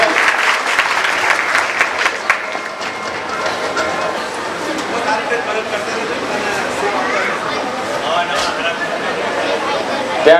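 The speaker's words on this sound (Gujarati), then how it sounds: "ખૂબ ખૂબ તાળીઓથી આપણે એને વધાવીએ" An audience at a community mass wedding honouring ceremony claps loudly and steadily for several seconds, with a speaker's voice heard over and under the applause.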